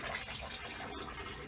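Water gushing steadily out of an aquaponics stock tank with a lava rock grow bed, a continuous soft splashing flow at low level with no talking over it.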